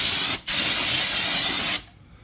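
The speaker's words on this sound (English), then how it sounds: "I'm just gonna take a little bit of brake cleaner here. Spray all that off" Brake cleaner hisses from an aerosol can onto corroded rear brake parts of a 2009-2015 Hyundai Tucson, two close bursts with a brief gap, the second long and steady before cutting off.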